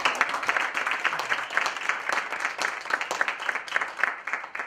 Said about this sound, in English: Another round of applause for our competitors.